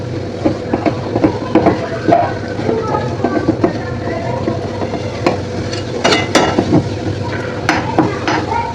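Patwadi batter is stirred and scraped in a pan as it thickens into a ball. The strokes make a steady, close scraping with soft sizzling underneath.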